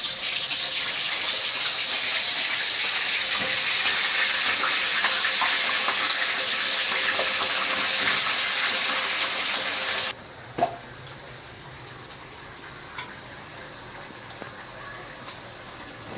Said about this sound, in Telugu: ఇప్పుడు నేను శుభ్రంగా కడిగిన చికెన్ ముక్కలు ఆయిల్లో వేస్తున్నాను